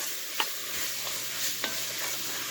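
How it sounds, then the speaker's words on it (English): Fish gumbo being stirred in oil in a pot, with a few scraping spoon strokes and soft clinks over a quiet, steady background hiss, close and moderately faint. "I'm going to put a little bit more oil in it because it looks like it needs a little bit more oil, just a little, to get it stirred up in there real good"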